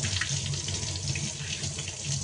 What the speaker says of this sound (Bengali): ঠিক আছে, ধুয়ে নিই প্রথমে ভালো করে জলে